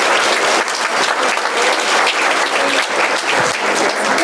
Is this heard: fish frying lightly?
no